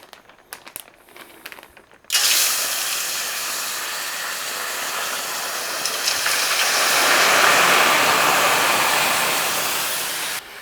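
Steak marinade poured from a bag into a hot pan bursts into loud, steady sizzling that starts abruptly after a couple of seconds of quieter handling noises and hisses on continuously to the end.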